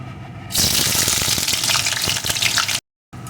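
Chopped onion dropped into hot mustard oil gives a loud, steady sizzle and crackle that starts abruptly and holds close, then cuts off briefly near the end.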